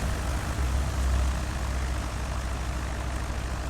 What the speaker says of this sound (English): Now because I did turn off the engine, I'll turn it back on again